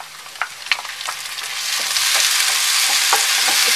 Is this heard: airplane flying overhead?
no